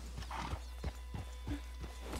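A small horse in Red Dead Redemption 2 Online clip-clops in an even rhythm of distinct hoof strikes, close and moderately loud, with a faint mechanical hum underneath.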